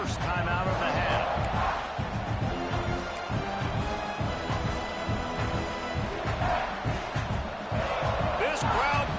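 A stadium crowd in the College Football 26 video game roars and swells, a loud continuous din with surges of cheering, under play-by-play commentary.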